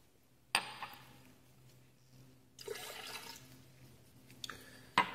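Colored chemical solutions are poured together into a container in a quiet room, giving two soft stretches of liquid splashing and trickling, with a sharp knock at the start and another at the end, under a low steady hum.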